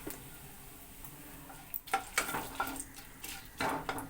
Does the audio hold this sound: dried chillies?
yes